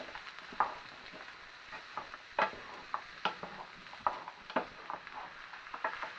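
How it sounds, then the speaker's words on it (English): Chopped courgette is stirred and fried in a pan: a low, constant sizzle broken by regular sharp scrapes and clicks of a utensil against the pan every second or so. "And we're going to stir that in, and we're going to fry that off for about a minute."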